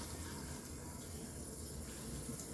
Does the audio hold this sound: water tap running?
yes